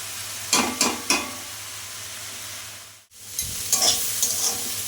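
Water spinach greens (kolmi shak) fry in a pan, sizzling under brisk scraping stirs in short bursts, with a brief quiet pause midway.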